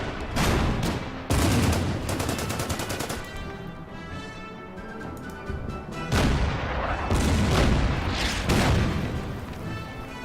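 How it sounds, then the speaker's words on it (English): Anti-tank gun and artillery fire in the Order of Battle strategy game, a WWII Imphal 1944 battle, with loud, close bursts of rapid shots and heavy booms crowding together, easing briefly in the middle before loud volleys return. "The AT gun up there, take a shot."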